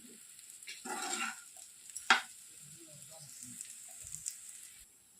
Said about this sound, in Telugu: ఒకసారి బాగా కలిపేసేసి ఒక టూ మినిట్స్ కానీ త్రీ మినిట్స్ కానీ సిమ్లోనే బాగా ఫ్రై చేసేదేయండి